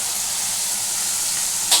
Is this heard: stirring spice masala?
yes